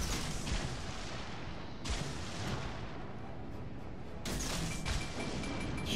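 Ship guns fire in World of Warships: Legends, dense rumbling battle noise with a couple of sharp heavy blasts cutting through, loud and close with no voices.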